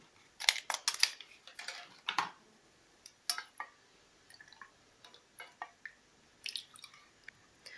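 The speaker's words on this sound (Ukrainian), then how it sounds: "Молоко нагрілося, воно гаряче, тепер додаємо до нього каву і добре розмішуємо." Coffee stirred into hot milk in a glass, heard as a few quiet, scattered liquid clinks and soft wet swirling sounds in a near-silent room.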